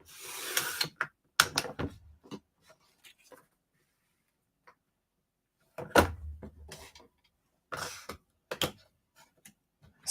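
Paper being trimmed for a scrapbook, with bursts of crisp cutting and sliding clicks separated by quiet pauses, close and moderately loud.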